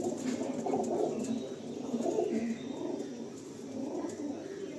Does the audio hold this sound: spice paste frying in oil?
no